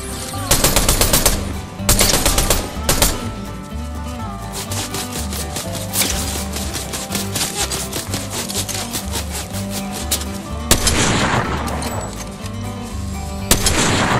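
Rapid, loud gunfire from the Frenzy shotgun in Fortnite, dense volleys of blasts layered over continuous game music, with heavy bursts near the start and again toward the end.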